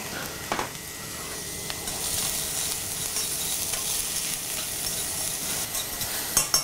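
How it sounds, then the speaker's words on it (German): Onions sweat gently in rapeseed oil in a sauté pan, giving a soft, steady sizzle, with a few light utensil clicks near the start and end and no voices. "Ich werde jetzt wieder ein bisschen Öl, Rapsöl in die Sauteuse geben, werde da die Zwiebeln nur leicht glasig schwitzen."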